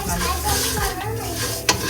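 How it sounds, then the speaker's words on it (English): Mexican-style rice sizzles and crackles steadily in a hot pan up close, with stirring scrapes and a voice talking over it. "You can hear it sizzling."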